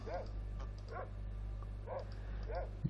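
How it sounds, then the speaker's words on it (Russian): A dog in the Fallout 2 video game barks in four evenly spaced yips over a steady low hum, sounding distant and fairly faint. "Где-то пес лает."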